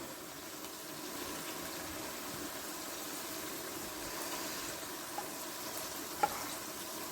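Tomatoes, halved and with skin on, fry in a karahi with chicken keema, giving a steady soft sizzle throughout with a couple of faint clinks.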